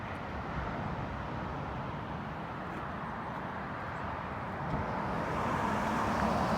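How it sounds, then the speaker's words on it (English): A car rolls past on the Great Ocean Road near the Memorial Arch at Eastern View, a faint, steady road hum that swells slightly near the end. "And that car is heading towards Geelong"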